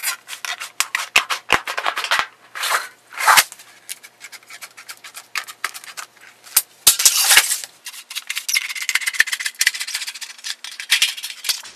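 Tin snips bite and rasp through sheet metal layout pieces for a furnace change-out, giving a loud, close run of crisp clicks, scrapes and metallic crunches in irregular bursts with no talk.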